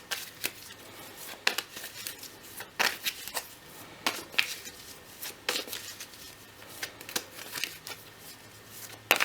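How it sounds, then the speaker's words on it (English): Tarot cards are shuffled by hand at close range in a quiet room, producing repeated crisp riffling bursts and soft papery slides with short pauses between them. "let's give a little shuffle for your cards"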